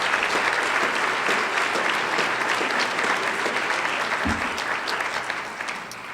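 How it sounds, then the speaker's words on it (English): An audience at a Portland public meeting applauds city council staff: a sustained, fairly distant round of clapping with one dull thump, tapering off toward the end. "Give them a round of applause."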